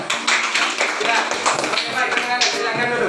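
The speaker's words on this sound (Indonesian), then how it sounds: "Oke, tepuk tangan." Schoolchildren in a classroom clap their hands in quick rhythmic bursts, a close, bright patter of many palms, while a teacher speaks over the clapping.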